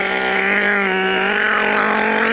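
A voice mimics a McCulloch chainsaw revving up, a sustained nasal buzzing drone held loud and close for a couple of seconds with a slight rise in pitch.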